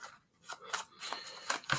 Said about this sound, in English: Let's overhand shuffle.